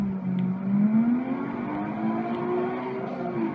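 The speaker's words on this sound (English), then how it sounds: "That really slow Skyline sound." Nissan Skyline engine in Need for Speed Underground 2, revving steadily with a slowly rising pitch, loud and close, with no talk over it.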